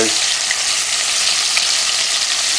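Chunks of steak for a steak and ale pie brown in a hot frying pan, giving a loud, close, continuous sizzle and crackle with no talking.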